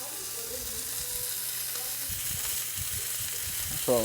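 Pork tenderloin searing in a hot pan, a steady close sizzle and hiss of frying meat with light clicks and stirring sounds throughout.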